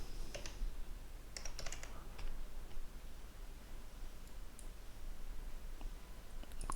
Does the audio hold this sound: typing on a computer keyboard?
yes